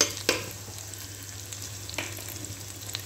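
Ginger and garlic sizzle in a hot pan with spices for a Kashmiri chicken masala, a steady close frying hiss broken by a couple of sharp stirring clicks, with no talking.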